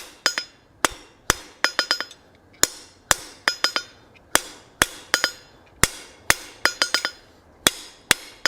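Sharp metallic hammer blows ring out on rivets of a forged spline-stock coal rake, close and fairly loud, in irregular single strikes and quick clusters of two to four.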